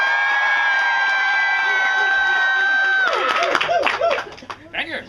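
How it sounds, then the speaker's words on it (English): Renaissance faire crowd at an outdoor Shakespeare show cheering, whooping and clapping, loud and continuous at first and then thinning into scattered shouts and claps toward the end. "Hoot, holla, clap, cheer, stomp your feet, whistle, and throw small loved ones into the air."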